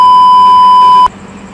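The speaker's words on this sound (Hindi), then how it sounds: "यहाँ पे बीप लगा" A loud, pure censor tone sounds steadily for about a second, then cuts off abruptly into quiet background noise.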